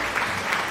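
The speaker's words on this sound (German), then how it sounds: "kann man ruhig mal klatschen, Yassin." A crowd claps steadily through a short stretch of applause, a dense, moderately loud patter of many hands with slight swells.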